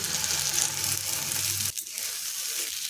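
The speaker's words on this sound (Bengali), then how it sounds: "এখন এর মধ্যে বেটে নেওয়া মটরশুঁটি দিয়ে দিচ্ছি" Ground green peas going into hot oil with ginger and asafoetida, a loud close sizzle that drops sharply partway through as the paste lands, then settles into a softer crackle.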